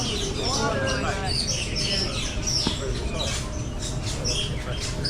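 A pet bird chirps and tweets in quick, bright bursts close by, repeating through the whole stretch over a busy indoor background, while a person talks to it softly.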